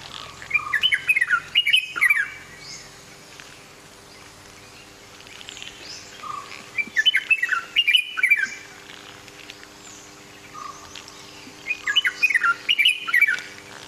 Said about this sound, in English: So that was the red-whiskered bulbul.